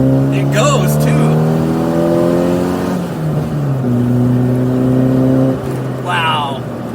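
A classic Mini Cooper fitted with a John Cooper Works kit, about 90 horsepower, revs up through the gears from inside the cabin, engine whine rising and dropping with shifts while people talk over it.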